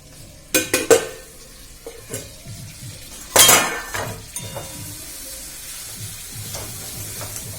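Bihari chicken curry being sautéed and stirred in a pan, with sharp clanks of a spoon against the pan, a loud scraping stir midway, and soft frying sizzle and small knocks continuing throughout.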